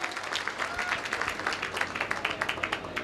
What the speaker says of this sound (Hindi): उस ऊपर वाले परमपिता परमेश्वर के लिए एक जोरदार ताली होनी चाहिए दोस्तों